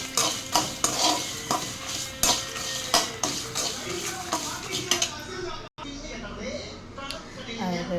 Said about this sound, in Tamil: தேங்காய் போட்டோன்னா அதையும் கொஞ்சம் நல்லா வறுத்துக்கலாம்